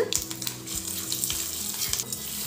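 A sizzling tempering for bottle gourd chutney hisses and crackles steadily, with a few soft knocks and stirring sounds beneath, no talking.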